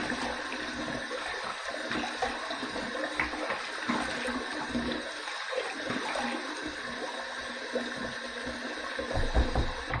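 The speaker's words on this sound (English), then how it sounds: "Okay, let's rinse." Running water rinses a shaving brush and razor during a wet shave, a steady close splashing and gushing flow from a tap that continues for the whole stretch with no talking.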